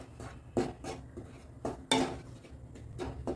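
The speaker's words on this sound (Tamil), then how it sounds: "நான் எண்ணெய் சட்டி வச்சுருக்கேன் அதை பாருங்கள் மாவை வறுத்துக்கலாம்" Wheat flour roasted in an oil pan for wheat idiyappam, heard as irregular metallic clanks and scrapes of a utensil against the pan, close and moderately loud with quiet gaps.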